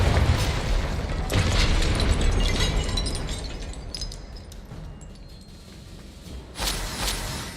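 The Confringo blasting spell in Hogwarts Legacy goes off with an explosive burst followed by a long rumbling, crackling decay, then a second sharper blast near the end.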